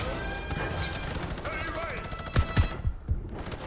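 Rapid gunfire rattles through a Fortnite match, with sustained automatic shots over game sounds and a few heavy low thumps near the end.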